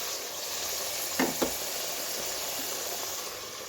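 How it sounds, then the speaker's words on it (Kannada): Tomatoes frying in a pan for mint rice, with a loud, steady hiss of sizzling oil and a couple of brief utensil clinks partway through. "ಟೊಮೆಟೊ ಹಾಕಬೇಕು. ಅದನ್ನು ಚೆನ್ನಾಗಿ ಫ್ರೈ ಆಗಿಬಿಟ್ಟು"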